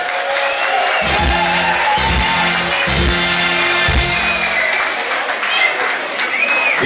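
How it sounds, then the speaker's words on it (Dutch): An audience applauds the jury at a prize ceremony, steady crowd clapping and cheering throughout, with someone speaking over it and rhythmic thumping music beneath. "En ik wil een duidelijk applaus voor de jury, dames en heren."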